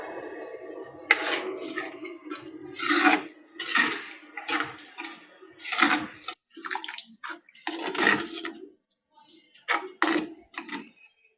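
Water poured into a pan of Tamil egg gravy, splashing and sizzling in irregular bursts with clinks of a utensil against the pan, close and fairly loud with brief pauses.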